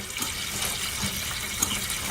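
A toilet tank refills after its fill valve has been replaced, giving a steady broadband hiss of running water that holds evenly throughout, with a couple of faint clicks near the end.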